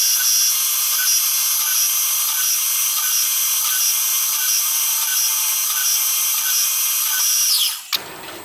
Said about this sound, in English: Okay, so that's all the holes drilled